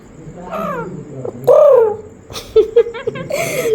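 A pet parrot mimics a crow, producing a series of loud, harsh caws and squawks at close range, some short and clipped, with no speech over them.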